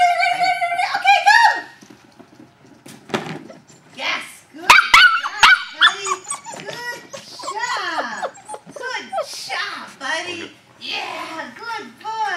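A small dog yips and whimpers in short bursts while a person talks excitedly nearby in an encouraging tone.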